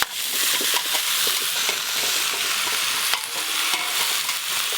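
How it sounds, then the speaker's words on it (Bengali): Chopped potato, pumpkin and Malabar spinach fried together in a pan, a loud continuous sizzle and crackle with frequent scraping stirs close by. "এবার সব কিছু একসঙ্গে ভেজে নেব।"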